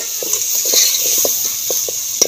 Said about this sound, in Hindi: इतना ज़्यादा ब्राउन नहीं किए मैं प्याज में